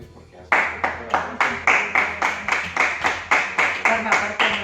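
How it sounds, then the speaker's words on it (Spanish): Rhythmic group clapping in unison, loud and close, a steady beat of about three claps per second after a short pause, at a Galician concert and album presentation. "deberíamos aplaudir todos e todas"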